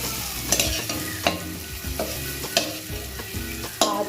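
Tomato, onion and ginger fry in a pan with turmeric while being stirred, giving a steady close sizzle broken by scraping stir strokes, with no talking.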